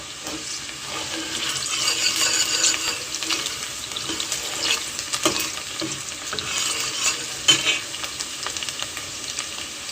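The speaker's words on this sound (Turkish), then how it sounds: "Şöyle soğan doğramıştım. İlk olarak bunu kavuracağım." Steady sizzling and crackling of chopped onions frying in a pan, with occasional stirring scrapes and clinks, close and continuous throughout.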